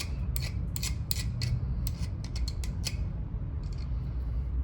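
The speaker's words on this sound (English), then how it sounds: "sometimes you can take the serrated edges of this as well, just kind of scrub it a little bit." Serrated jaws of welding pliers scrubbed against metal, giving a run of short, sharp rasping scrapes in irregular rhythm over a low steady background hum, close and alone without talk.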